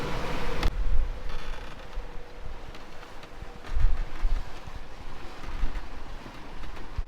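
Gusty wind blows while a yacht sails in a sou'westerly of about 15 knots, with a steady rushing noise that rises and falls and a few soft thumps of water against the hull. No voices can be heard.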